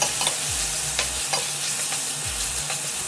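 Tomatoes go into browned onions frying in a kadhai, and a steady sizzle fills the pan while a spoon scrapes and stirs in a few quick strokes, close and continuous, with no talking.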